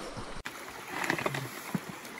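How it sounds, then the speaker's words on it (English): Water from a stream on the Appalachian Trail is scooped and poured into a container, making soft splashes and trickling gurgles under the running stream and outdoor air, fairly faint and close. "Here's Sean getting water"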